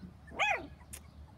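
A half standard, half miniature schnauzer gives a single short bark outdoors at moderate distance, followed by faint background noise and a brief soft click.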